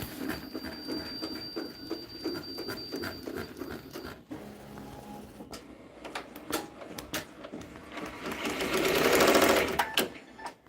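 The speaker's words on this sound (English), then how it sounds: "whenever I whenever I start it, it's gonna start stitching, and then it's gonna stop" A sewing machine stitches a patch in a rhythmic run of needle taps, pausing and restarting, with a louder whirring stretch toward the end.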